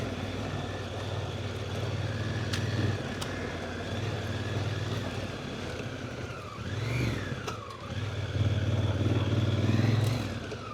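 Motorcycles riding a bumpy road toward Hatcreek Road and the Cornwall Fire Lookout, a steady close engine drone with wind rush and clattering jolts, the engine note swelling and dropping as the bikes ride on.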